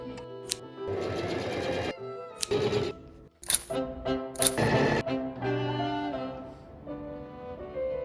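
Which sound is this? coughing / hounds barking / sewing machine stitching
sewing machine stitching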